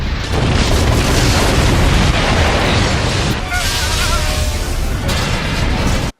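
Spaceship Grendel crashing into and destroying the Solaris space station in Jason X, a loud, sustained roar of booming explosions and rumbling debris that stays dense throughout before cutting off abruptly at the end.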